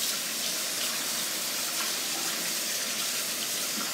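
Hot tap water runs steadily over a paint roller cover slid off its frame, a continuous close gushing hiss with no talk over it.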